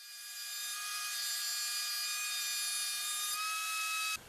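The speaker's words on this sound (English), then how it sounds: "Now I'm running the support rails through the router table with a rabbeting bit" A router table with a rabbeting bit cuts along wooden support rails for a picture frame display. The bit screams at a high, steady pitch that swells as the wood feeds through, then cuts off sharply at the end.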